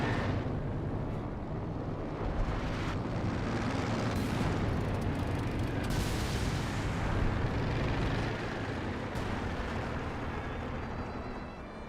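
A fragmentation bombing run in the Company of Heroes 2 strategy game, with dense, continuous rumbling explosions and blasts filling the whole stretch at steady loudness.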